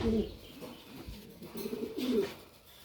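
Pigeons in a breeding loft give low, soft throaty coos, a few rounded calls close by against quiet background.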